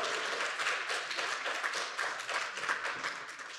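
Steady audience applause in a hall at the national final of a university thesis presentation contest, moderately loud and continuous, with dense overlapping claps and no voices.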